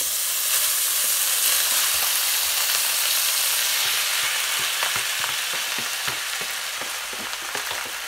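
Rice tipped slowly into hot, sputtering ghee for jeera rice sends up a loud, steady sizzle, dotted with sharp crackles and pops, fading slightly toward the end.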